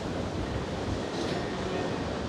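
Strong wind blowing through moving trees, a steady broadband roar with buffeting across the microphone, continuous and fairly loud with no clear voices.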